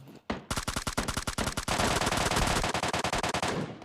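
Loud automatic gunfire from the video game PUBG Mobile Lite: rapid bursts of shots, then a dense sustained volley that tapers off at the end.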